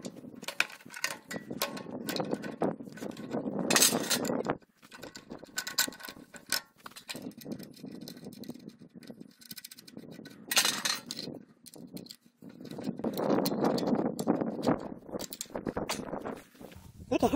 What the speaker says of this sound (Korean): 이렇게 핸들 부분도 단단히 고정해 주시면 됩니다.